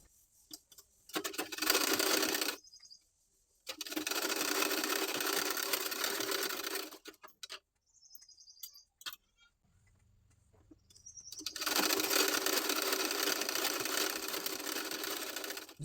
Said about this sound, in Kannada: ಬ್ಯಾಕ್ ಟಕ್ಸ್ಗಳನ್ನ ಸ್ಟಿಚ್ ಮಾಡ್ಕೊಳ್ಬೇಕು